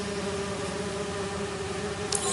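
Bees buzzing in the Marvel's Spider-Man 2 video game, a steady continuous drone holding evenly throughout with no voices, and a brief brighter flicker near the end.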